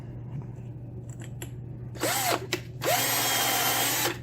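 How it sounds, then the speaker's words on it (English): A power drill driving a sharp tap to cut threads whirs in two bursts, spinning up and slowing, the second run longer and steady at high speed, close by after a quiet hum. "if you got a nice sharp tap like I do, you can put your drill on high speed and just let it eat"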